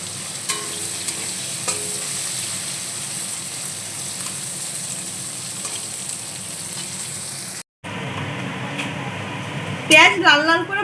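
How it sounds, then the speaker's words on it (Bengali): Chopped onions fry in a hot kadai until red-brown, making a steady broadband hiss with light stirring. After a brief cut, scraping and clattering against the pan grow louder. "পেঁয়াজগুলো লাল লাল করে ভেজে নেব।"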